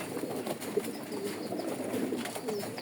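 Racing pigeons at a home loft coo softly in low, rounded calls that repeat through a faint, quiet background, fairly close but not loud.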